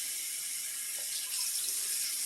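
Hot water runs steadily from a tap during household cleaning, a faint continuous hiss and splash with a soft rise partway through, with no voices.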